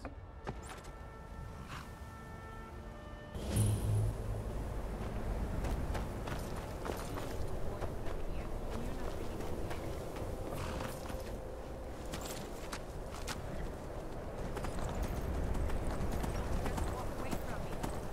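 A horse-drawn carriage ride in Skyrim: steady clip-clop of hooves with creaking carriage movement, continuous and fairly close, beginning after a short quiet lead-in, with a character's voice talking over it at times.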